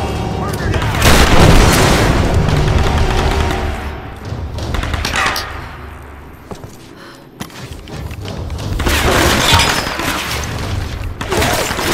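Gunfire in the Tomb Raider video game, loud dense bursts of rapid shots and heavy booms, easing off in the middle before another intense volley, with game noise throughout.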